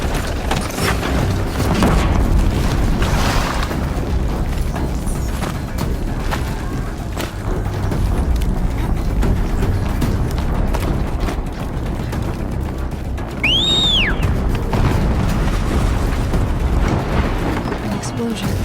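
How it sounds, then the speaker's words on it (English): An explosion in the video game Horizon Zero Dawn bursts against a dense, continuous backdrop of loud game audio, its low rumble blending into steady combat noise with a brief rising tonal sweep partway through. "An explosion."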